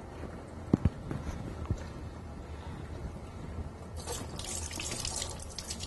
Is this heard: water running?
yes